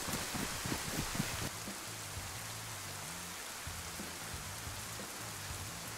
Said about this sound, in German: Da können wir vielleicht den Regen aussitzen